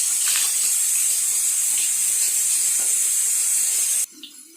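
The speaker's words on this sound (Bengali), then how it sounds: "তেল গরমও হয়ে গেছে। এক এক করে ভেজে নেব এগুলো।" Fritters frying in hot oil, a loud, even, close hiss of bubbling oil that runs steadily and then cuts off abruptly near the end.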